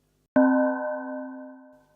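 Bell resonator model in the Rippler synthesizer plugin, struck once: a sharp metallic strike ringing into a bright, sustained bell tone with several overtones that slowly fades over about a second and a half, alone.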